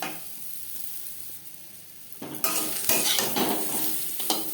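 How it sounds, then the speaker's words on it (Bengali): Mango pieces being lightly fried for a sweet-sour-spicy mango pickle: a quiet sizzle at first, then louder stirring and scraping in the pan with a bright, steady crackle, close and alone. "আমি হালকা করে ভেজে নেব, খুব বেশি ভাজবার প্রয়োজন নেই।"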